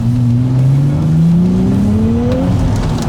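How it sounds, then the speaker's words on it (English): A Honda Civic Type R or Nissan 400Z engine revving up loudly in second gear as it accelerates hard, pitch climbing steadily, with wet road hiss from tyres underneath in the rain. "let's give it a little bit of a acceleration test here in the rain. Drop it down to second."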